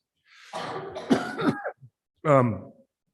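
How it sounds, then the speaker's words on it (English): A political candidate at a public meet-the-candidates event coughs and clears the throat in a quick close burst, then gives one more hoarse cough after a short pause. "I will cough and I'm sorry"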